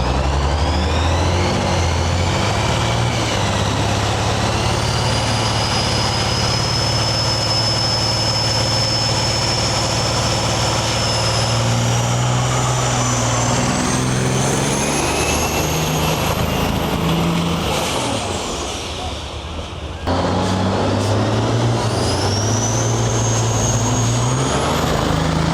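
Peterbilt semi trucks, including one called the world's fastest semi, drag race down the lanes at a big show in Western Canada. Loud, sustained engine roar with rising whine carries throughout, dipping briefly before surging again.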